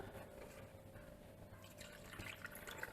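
Water is poured into a cooking pot holding chickpeas with bay leaves, garlic and parsley, a faint, steady trickling and dripping heard close by at low volume.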